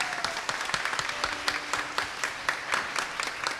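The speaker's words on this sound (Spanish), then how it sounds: "Le damos un aplauso a la abanderada" A small group applauds a flag bearer at a Virgen del Rosario novena, with steady, close clapping that carries on for a few seconds without a break.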